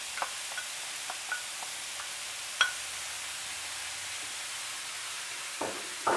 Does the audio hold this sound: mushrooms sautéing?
yes